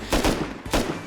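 Bursts of gunfire from explosive bullets in the Rust video game, several loud close shots in quick succession with a short gap before another blast.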